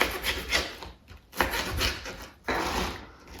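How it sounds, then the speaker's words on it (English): A knife slices meatless chicken into strips on a cutting board, producing quiet, scraping strokes in three short bursts separated by brief pauses. "Now we're going to cut in our second piece. So once again, we're just going to cut into strips."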